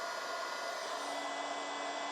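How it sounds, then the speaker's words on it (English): A heat gun warms vinyl wrap on a Rivian side badge, giving a steady, unbroken blowing whir with a bright hiss that holds at the same level throughout, alone and close. "take your heat gun and just get it warm"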